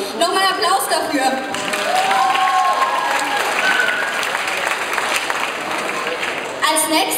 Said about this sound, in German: Nochmal einen Applaus dafür.